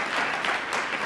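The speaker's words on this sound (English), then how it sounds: "I had to get a cheap applause break there" A live audience in Chicago breaks into a dense, steady burst of clapping and cheering, loud and close, with no one speaking over it.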